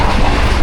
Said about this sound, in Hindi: पाक बिजनेस एक्सप्रेस 33 अब जो मुल्तान नहीं जाती थी, आज मुल्तान कंटोनमेंट रेलवे स्टेशन पे अप्रोच बना रही है